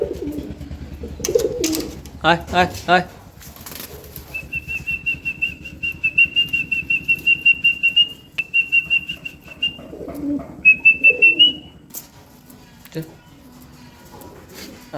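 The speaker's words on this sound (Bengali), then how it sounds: "ময়ূরপঙ্খী পায়রাগুলো এখানে এখন ঘুরবে কিছুক্ষণ" Fancy peacock-tail pigeons coo nearby as a high, steady whistle repeats in bursts; early on there is a brief fluttering and a murmuring voice.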